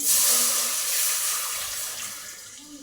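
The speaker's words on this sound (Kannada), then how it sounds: "ಇದರಲ್ಲಿ ಒಂದು ಕಪ್ಪಷ್ಟು ನೀರು ಹಾಕ್ತಾಯಿದ್ದೀನಿ ನಾನು" A steady stream of about a cup of water pours into a pan with ghee, splashing continuously, hissing and gradually softening toward the end.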